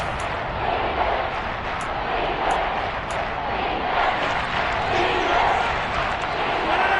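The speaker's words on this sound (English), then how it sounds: "the crowd getting into it as we come up on a big 3rd down" A football stadium crowd at an NFL game between the Dolphins and Bills builds a loud, sustained roar ahead of a third down, a broad, constant wash of voices with occasional sharper shouts standing out.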